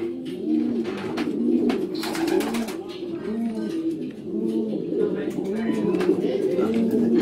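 A racing pigeon arrives at its loft during a Polish pigeon club flight return, with pigeons cooing in steady, rhythmic close calls while people talk quietly nearby.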